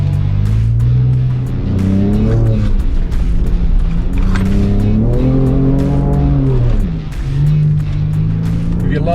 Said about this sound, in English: If you love beach driving, you'll love the new Ranger Raptor on the beach.